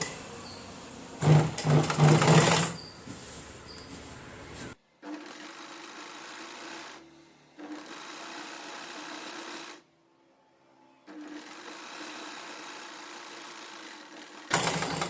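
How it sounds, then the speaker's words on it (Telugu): Sewing machine stitching a long frock, running in several bursts of steady mechanical whirring with brief pauses between them, close and moderately loud, with no talking. "నేను ఇక్కడి నుంచి కుట్టు వేసుకొస్తున్నానండి"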